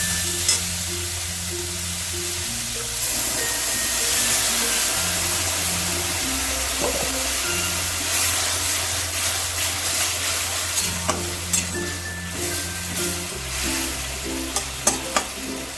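Softened tomatoes and onions simmering in a pan with a little added water, a steady bubbling sizzle throughout with occasional stirring clicks and a low background hum.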